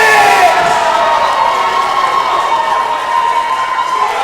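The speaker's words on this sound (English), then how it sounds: "A lot of crowd support here for the Bromantics." A loud crowd cheers and shouts at a live pro wrestling show as a tag team is introduced, a steady roar of voices filling the whole stretch.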